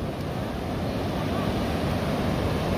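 Ocean surf washes steadily onto a beach at sunset, a continuous broad roar with wind buffeting the microphone and no distinct breaks between waves.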